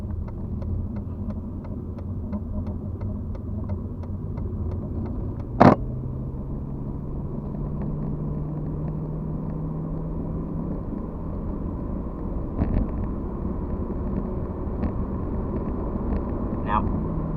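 2006 Lexus LS430 accelerating onto a highway, a low steady engine and road rumble rising gradually in pitch with a gear shift partway, heard from inside the cabin with a few brief clicks and bumps.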